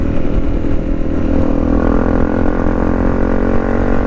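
A Honda CRF 250 Rally motorcycle rides along a country green lane, its single-cylinder engine droning loud and close with steady rumbling and light clatter throughout.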